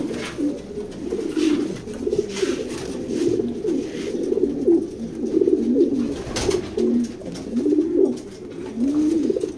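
A female pigeon from a foreign line coos repeatedly at a loft, with low, rolling calls recurring close and fairly loud in a steady rhythm, with no voices.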